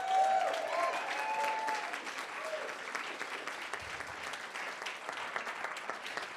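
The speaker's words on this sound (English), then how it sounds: "can you give them a round of applause?" Applause from an awards-night audience for a standing cohort, broad and steady at moderate distance, tapering slightly over the clip, with faint voices and cheers mixed into the clapping.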